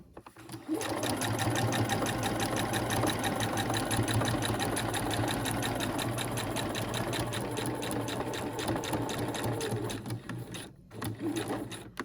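Sewing machine stitches a basic backpack in a fast, steady mechanical chatter for about ten seconds, then slows with a couple of brief pauses and restarts.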